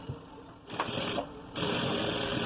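A sewing machine stitches a pocket on a pair of shorts, running in short bursts with a pause before settling into a steady, close whir.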